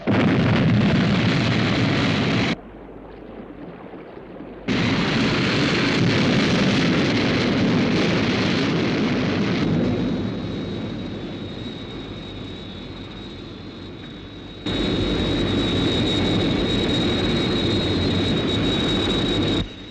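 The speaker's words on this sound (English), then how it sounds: "Lift-off -5, 4, 3, 2, 1, 0." Sky One interceptor aircraft lifting off in the UFO television series: a loud, roaring jet and rocket blast that drops out briefly, returns as a sustained rushing thrust with a whining tone, fades, then surges again, with no talk.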